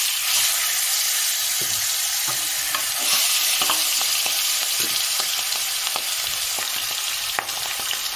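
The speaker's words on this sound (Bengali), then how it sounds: "এইবারে এই আর মাছগুলো আমি হালকাভাবে ভেজে নেব।" Aar fish fry lightly in hot oil over high heat, giving a continuous close sizzle with frequent small spatters and pops throughout, with no voices.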